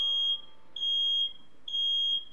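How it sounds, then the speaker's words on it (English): A smoke alarm sounds three loud, shrill, high-pitched beeps, each about half a second long, with short pauses between them. "We set off the smoke alarm."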